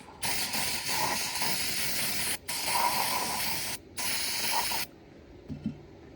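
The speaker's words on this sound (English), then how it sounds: "Just spray this off." An aerosol carburetor cleaner sprays in three long hissing bursts separated by brief pauses, close up, on a lawn mower carburetor, then stops, leaving a faint clink.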